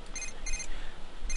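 Phone ringing in The Sims 3, a repeating electronic ring of three short bursts spread across about a second and a half, fairly faint and heard alone with no talking over it.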